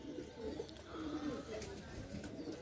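Pigeons on a rooftop terrace in the morning give soft, low cooing and some wing flutter, heard faintly and steadily against the ambient hum.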